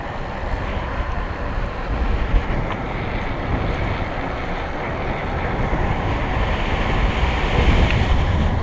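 Steady rushing wind roar from riding an A2B Shima electric bike at about 25 mph, a broad continuous buffeting that swells slightly toward the end, with no talking.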